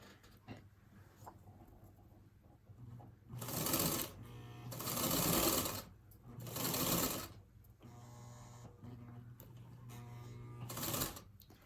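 A featherweight sewing machine stitches fabric in four bursts of quick, even needle chatter, with quiet pauses between runs, close and clear.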